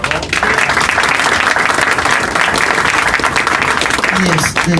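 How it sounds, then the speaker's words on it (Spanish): Conference audience at Ibero Puebla breaks into loud, sustained applause filling the whole stretch, dense clapping with a voice briefly audible near the end. "Un aplauso también, por favor."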